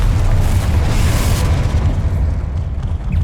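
A Confringo explosion spell goes off in Hogwarts Legacy: a loud, deep rumbling blast that stays full for about a second and a half, then slowly fades into a low roar.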